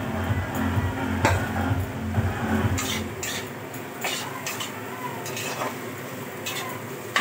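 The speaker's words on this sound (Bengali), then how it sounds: "একটু নেড়ে নিই।" Chow mein noodles stirred in a pan with a utensil, producing steady scraping and clinking against the metal, close and moderately loud, with a faint sizzle underneath and no voices.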